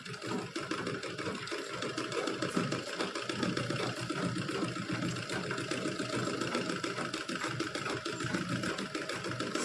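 An electric sewing machine stitching a homemade herbal sanitary napkin, running in a steady, continuous mechanical whir with a faint rattle throughout, at moderate to low volume and with no voices.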